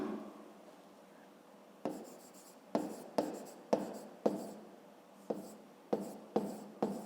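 A pen moves across paper near the microphone, with soft scratching, then a run of about a dozen short, crisp strokes and taps in an uneven rhythm, quiet and without talk.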